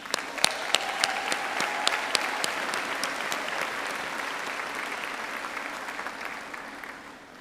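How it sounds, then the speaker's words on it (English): A commencement crowd applauds steadily for several seconds, a bright wash of clapping that slowly fades out at the end. "Let's give it a round of applause,"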